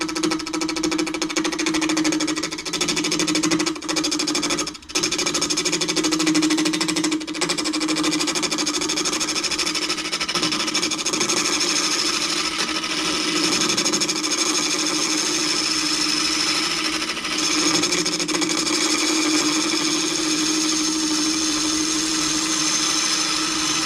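A wood lathe spins a wooden vase built from many glued segments at about 810 RPM, giving a steady, loud mechanical hum and whir with a slight vibration that runs unbroken for the whole stretch, with no talking.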